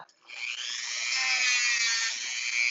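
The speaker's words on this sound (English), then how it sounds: "let's get this foot Dremel" A Dremel rotary tool grinds a standard poodle's nails, producing a close, steady high-pitched whine that holds for a few seconds with only slight dips in pitch.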